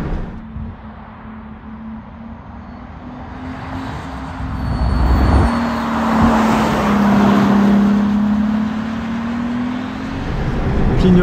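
A Pagani Huayra Codalunga with a big twin-turbo engine drives along, its steady engine drone swelling and holding through a long pull before easing slightly, with road and wind noise underneath.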